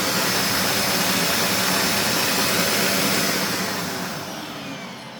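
A Dyson DC04 Absolute+ upright vacuum cleaner runs in a living room, a loud, steady, close whine and roar that holds evenly, then eases slightly lower and quieter toward the end.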